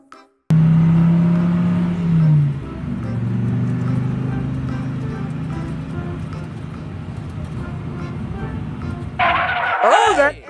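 A cartoon dinosaur car rampages through a crowd toward an egg, with a loud engine whine and skidding rumble that settles into a steady drone, then a burst of higher squeals near the end.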